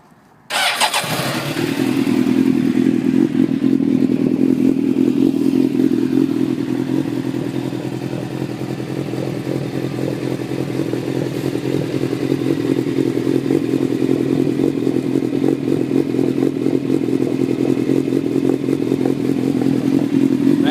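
A 2002 Suzuki GSXR 750 fitted with a DanMoto CF GP carbon exhaust fires up in snowy, freezing conditions and settles into a loud, steady idle rumble that holds for about twenty seconds, close to the microphone.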